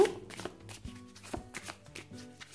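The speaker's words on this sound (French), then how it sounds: "on va recommencer à tirer donc une carte du Lenormand" Lenormand cards are shuffled by hand in a quiet room, a series of close, soft riffling and slapping bursts with small pauses between them, no talk.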